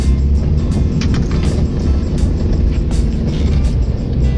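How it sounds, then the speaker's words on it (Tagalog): Motorcycle engine labouring up a steep mountain road, a loud, steady low drone that holds throughout with little change in pitch. "Kaya ng motor, oh."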